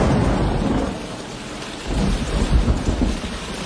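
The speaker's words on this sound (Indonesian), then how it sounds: "muncul suara guludug di langit dan..." Heavy rain pours down, and thunder rumbles low in the sky, swelling into a louder roll near the end, with no talking.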